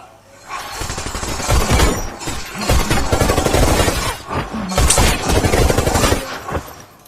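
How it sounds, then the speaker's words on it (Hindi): Film-scene gunfire from an action movie, a loud continuous burst of rapid automatic shots and impacts lasting several seconds, dense and close with no break. "सीधे फायरिंग स्टार्ट कर दिया।"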